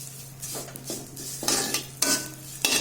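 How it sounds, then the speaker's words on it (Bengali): Vermicelli fried in ghee and oil over medium heat is stirred in a pan, with a few distinct scraping and clinking strokes of a utensil over a faint, low sizzle. "এবার আমি এই যে সেটা ভেজে নেব ভালো।"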